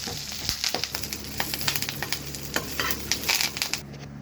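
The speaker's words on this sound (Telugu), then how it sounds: "కరివేపాకు వేసుకోవాలి. ఇది కూడా 2 నిమిషాలు వేపాలి." Curry leaves frying in hot oil for a sesame chili spice powder: a steady close sizzle dotted with sharp crackles and pops that runs throughout, with no talking.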